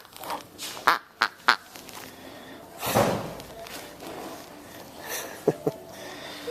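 A squeezed rubber duck toy gives three quick squeaky quacks in a row, then after some faint handling noise, two more short squeaks.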